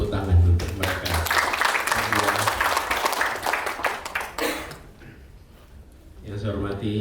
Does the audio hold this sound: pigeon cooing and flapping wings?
no